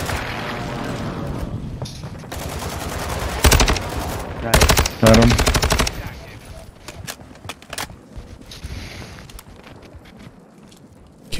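Rapid bursts of loud automatic gunfire crackle through a busy Call of Duty Resurgence match, with a player speaking briefly over the shooting.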